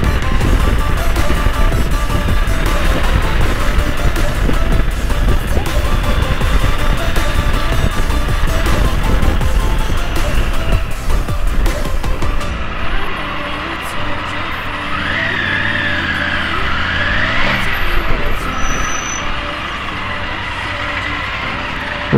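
A Triumph Tiger 900 Rally Pro motorcycle ridden on the road gives a loud, steady roar of engine and wind that drops to a quieter hum about halfway through, with a voice talking over it.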